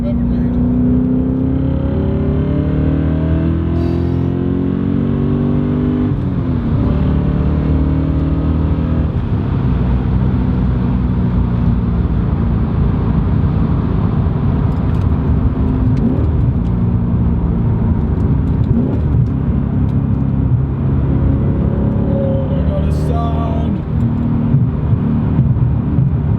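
A BMW M5 E39 driving, its engine droning loudly and continuously with rising revs and gear changes throughout, heard close up as a steady roar.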